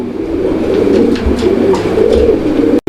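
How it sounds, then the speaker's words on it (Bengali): Pigeons coo softly and continuously, a low rolling warble repeating close by with no voices. "এখানে চমৎকার আরো এক জোড়া কবুতরের কালেকশন রয়েছে"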